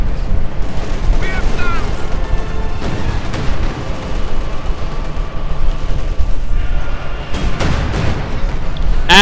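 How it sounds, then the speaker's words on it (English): Incendiary artillery barrage in Company of Heroes 2, a dense roar of overlapping blasts, booms and crackling gunfire that keeps going throughout, with a voice talking over the battle. "And another incendiary barrage"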